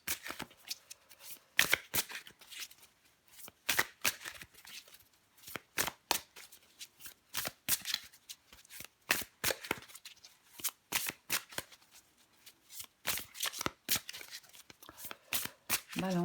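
Tarot cards being shuffled by hand at close range: quick, crisp riffling bursts that repeat steadily throughout, with brief quiet gaps between them and a little soft talk.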